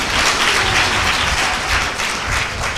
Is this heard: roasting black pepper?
no